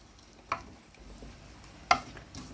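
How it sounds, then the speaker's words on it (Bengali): Tomato and green chili paste being sautéed for chicken curry, a low quiet sizzle broken by two sharp spoon scrapes against the pan. "তো এগুলো আমি অ্যাড করতেছি এখানে। একটু কষিয়ে নিই এভাবে।"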